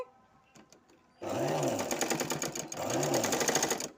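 A sewing machine stitches a folded hem in two loud, steady whirring runs close up, after a few soft clicks and handling sounds.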